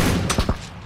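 A quick burst of two or three sharp gunshots in the video game PUBG, close together, punchy and loud over a steady background rumble.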